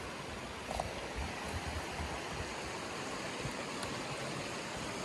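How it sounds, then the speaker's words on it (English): Clear, cold creek water flows over bedrock at the Idaho–Canada border, a steady close rushing wash that continues evenly with no talking. "You know, the water is just like going right over it."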